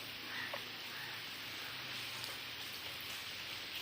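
Heavy rain pours at an 8th-century Shiva temple, a constant broadband hiss of falling water heard quietly, with a few faint chirps from birds.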